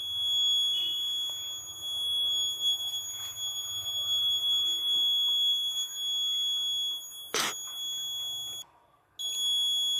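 A shrill, steady electronic alarm buzzer from a Raspberry Pi Pico sensor project sounds continuously and loudly, broken by a brief sharp burst and a short gap near the end.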